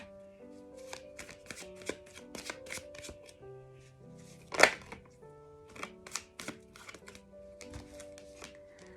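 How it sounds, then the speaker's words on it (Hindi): Tarot cards are shuffled by hand in a quiet room, a close series of quick riffling and tapping bursts with one sharper snap midway, no speech. "जब तक मैं कार्ड्स को शफल कर रही हूँ"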